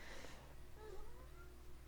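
A house cat gives a single faint, short meow against low background hum, close but quiet, with no talking.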